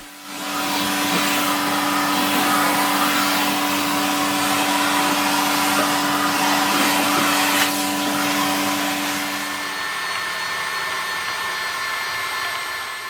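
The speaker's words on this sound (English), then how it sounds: "so I give the loom a good hoovering" A vacuum cleaner hoovers wool fluff off a rug-making loom, running as a loud, steady roar close by for the whole stretch before its pitch shifts slightly near the end. No one speaks.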